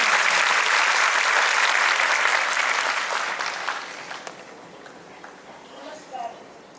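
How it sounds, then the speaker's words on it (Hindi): Loud audience applause at a felicitation ceremony for newly literate adults in Chandigarh, strong clapping that fades over several seconds into scattered claps and murmuring voices. "तो तालियां एक बार जोरदार दोबारा से"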